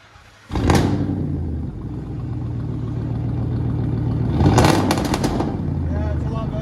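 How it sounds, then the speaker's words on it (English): A 2006 Ford F-150 King Ranch with a 5.4L Triton engine and straight-pipe true dual exhaust: two sharp revs rise out of a loud, deep idle rumble, the second rev hitting harder before settling back to a steady growl. "I'm gonna let you guys hear it in a second and show you the difference in sound it made."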